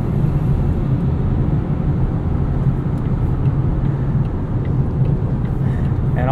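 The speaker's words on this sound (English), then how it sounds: "all you hear is wind noise as you go faster" Steady broadband wind rush inside a 2022 Volvo C40 Recharge pure electric car as it accelerates, a constant loud roar with low road rumble and no engine note, continuous throughout.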